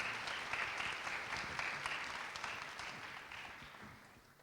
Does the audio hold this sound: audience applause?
yes